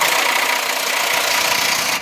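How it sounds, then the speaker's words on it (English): A loud, continuous mechanical roar from an impact wrench hammering, rattling steadily for a couple of seconds without pause, close up, while removing a 360 FE engine. "take two, big impact, hammering!"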